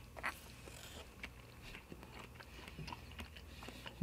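Close, crisp biting and soft chewing of fatty shime saba, cured mackerel dipped in soy sauce with grated ginger, a few quiet crunchy bites and wet mouth sounds with no talking.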